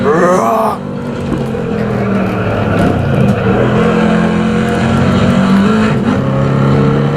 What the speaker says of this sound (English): it doesn't let you forget its muscle car heritage with that exhaust